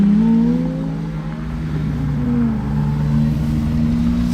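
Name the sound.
Ferrari 430 engine and exhaust revving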